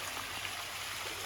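Water runs down from a garden fountain in a steady, continuous trickling wash, close and even throughout with no talking.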